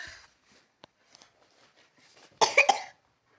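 A couple of sharp coughs burst out near the end after a stretch of near silence with faint small noises.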